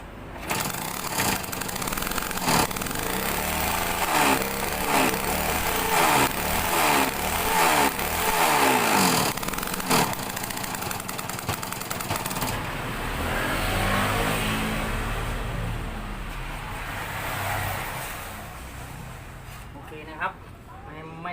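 A small motorcycle engine (Yamaha YL2 with rewound stator coil, new main wiring and converted CDI) revs hard and repeatedly during a headlight charging test, loud and close, with someone talking over it.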